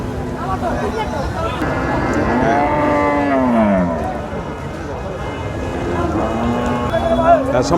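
A bony dairy cow lets out one long, drawn-out moo that rises and falls, heard over a steady background of cattle market crowd chatter and bustle.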